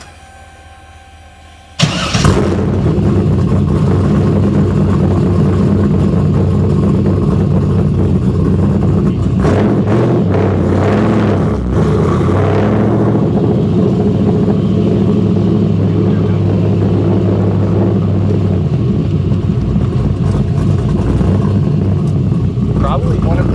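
A Chevrolet Camaro SS V8 fires up after a quiet moment, then rumbles loudly up close, with rev swells and a sustained driving drone over the rest.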